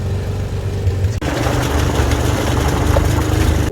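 A quad bike engine idles loudly and close by in Egypt, a steady low rumble that briefly dips partway through, then carries on without talk.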